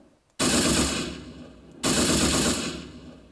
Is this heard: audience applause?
no